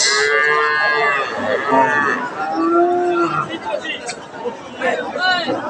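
Cattle at a busy village cattle market, with repeated loud moos and drawn-out lowing close by over the murmur of a crowd and nearby talk.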